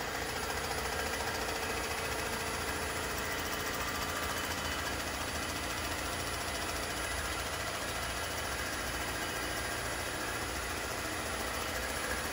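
A Comec ACF200 mill decks an R56 Mini Cooper cylinder head, giving a steady, dense, loud machining roar with a harsh buzzing texture that runs unbroken throughout, with no talk.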